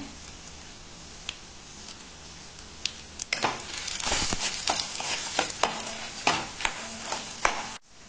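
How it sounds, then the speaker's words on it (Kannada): Ajwain, fenugreek and cumin seeds fry in a pan, starting as a faint crackle with a few ticks, then swelling into louder scraping and stirring with sharp taps of a spoon against the pan. "ಓಮಕಾಳು, ಮೆಂತೆಕಾಳು, ಜೀರಿಗೆ ಎಲ್ಲ ಹಾಕೊಂಡು ಚೆನ್ನಾಗಿ ಫ್ರೈ ಮಾಡ್ಕೊಳ್ತೇನೆ."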